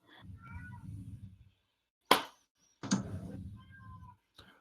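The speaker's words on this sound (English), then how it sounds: "And there's a cat in the other room meowing." A cat meows from another room, several distinct drawn-out cries with a pause between them, faint and muffled by distance, with no talk over them.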